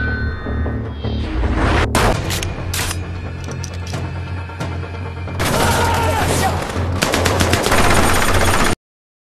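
Machine gun fire in a film shootout rattles in loud, sustained bursts, thinning to scattered shots midway before a heavier barrage resumes, then cuts off abruptly.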